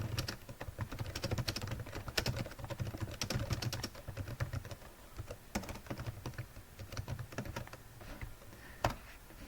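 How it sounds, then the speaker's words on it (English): Steady, rapid typing on a computer keyboard, close up, with dense clusters of key clicks running continuously and a few louder taps near the end. "Now, you add the name of the person you're typing to"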